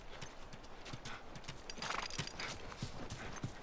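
Horse hooves in the video game The Last of Us Remastered, a steady clip-clop of footfalls at moderate distance with a brief whinny, played over soft background ambience.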